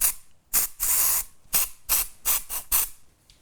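Batiste Original dry shampoo sprayed from an aerosol can in a series of short, close, loud hissing bursts, some quick and one longer, with brief pauses between them.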